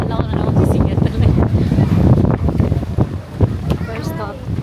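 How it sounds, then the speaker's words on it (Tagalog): Strong wind blasts and buffets the microphone in loud, uneven gusts throughout, with brief voice sounds underneath. "ang lakas ng hangin"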